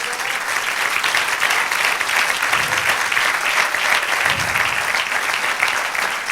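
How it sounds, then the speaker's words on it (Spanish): A church congregation gives another round of applause to the Lord, dense continuous clapping that stays loud and even throughout, with no voices standing out. "Dale otro aplauso al Señor"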